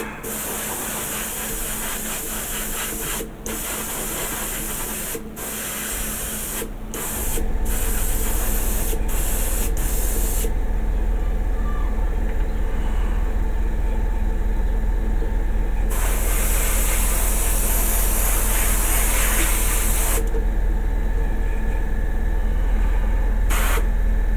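Steady hiss of compressed air blown over a freshly painted Star Trek Enterprise model, with several short puffs first and then a long continuous loud blast with brief pauses.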